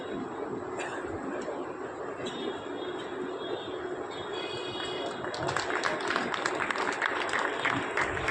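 Audience applause at a BSNL staff felicitation event for Dr. Bhimrao Ambedkar's 134th birth anniversary, a steady wash of clapping that swells louder toward the end, with crowd murmur underneath.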